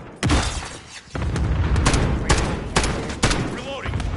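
Cluster strike explosions go off in Call of Duty on a PS5. Loud booming blasts follow one another over a dense, rumbling barrage of gunfire and debris.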